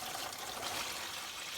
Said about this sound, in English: he's pouring the brine